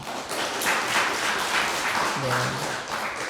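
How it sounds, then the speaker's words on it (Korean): A church congregation claps together in blessing for its young people during a Thanksgiving service, a broad sustained wash of hand claps; a low hum and a voice briefly surface near the end. "우리 젊은이들, 우리 청년들을 위해서 축복하면서 박수하겠습니다."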